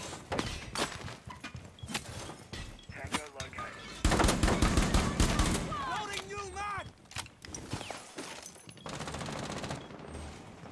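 Video game gunfire fired through a window comes in repeated sharp shots and rapid bursts, with clattering mechanisms and in-game effects between them, while players talk over the action.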